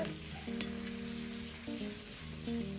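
Two spoonfuls of aged wine vinegar hit a hot pan and boil, giving a steady close sizzle and bubbling hiss, with low humming tones running underneath.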